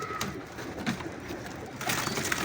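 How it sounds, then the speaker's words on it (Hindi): Large-bodied Jethiya pigeons in a Lahore pigeon loft, with soft cooing and bird calls over a busy background and flutter-like bursts, moderately close. "ये जेठिए कबूतर हैं, बड़ी बड़ी बॉडी के कबूतर हैं।"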